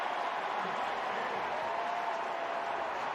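An NFL stadium crowd roars during a Steelers vs. Bengals game, a steady, dense wall of cheering that holds loud and unbroken throughout, with a commentator's voice faintly underneath.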